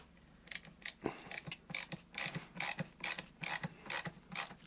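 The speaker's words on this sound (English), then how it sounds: "Let's get the ratchet going." A ratchet screwdriver from a multi-functional hand tool kit drives a screw with a steady run of close, sharp clicking ratchet strokes, each a quick metallic burst, with no talking.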